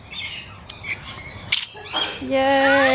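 Birds squawking while waiting to be fed, harsh scattered squawks and calls with a rising tonal cry near the end, heard alongside a brief excited exclamation from a person.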